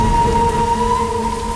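Sudden heavy rain pours in a steady, loud wash with a low rumble of thunder underneath, and nobody speaks over it.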